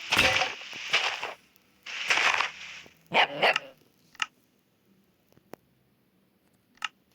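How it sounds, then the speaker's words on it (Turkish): Puppy in the video game Minecraft, several loud, close barks in quick bursts followed by a few shorter, fainter yips spaced apart. "Yavru köpek."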